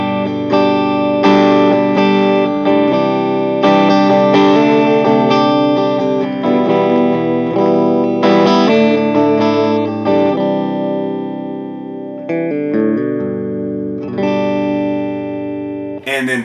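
A Gretsch G5120 electric guitar on its middle pickup, through a Vox Night Train amp set clean, plays strummed chords and ringing notes in a steady rhythm, loud and close.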